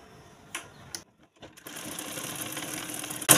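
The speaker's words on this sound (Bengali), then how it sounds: "এইবার সেলাই করে দেখাবো।" A sewing machine with its stitch length dial turned to the highest setting gives a few sharp clicks and knocks, then breaks into a steady, close, rapid mechanical whirr of stitching.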